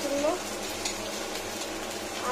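Ginger frying in a pan with panch phoron and green chilli gives a soft, steady sizzle with light scraping as it is stirred, close and fairly quiet.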